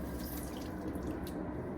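Tap water runs steadily and splashes while feet are washed during wudu, a continuous close rushing with no talk.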